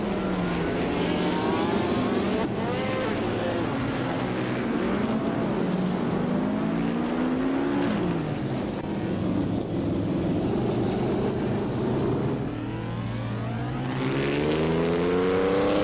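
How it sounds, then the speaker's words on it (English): Maserati 250F racing car engine in a racing video game, a steady droning roar with rising and falling revs through gear changes, other cars passing, loud and continuous. "Lian Yashin is driving a Maserati 250 FT2, a classic racing legend"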